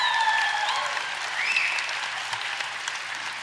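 An enthusiastic theatre audience at a Broadway show claps steadily throughout, with a few whoops and cheers rising over the applause.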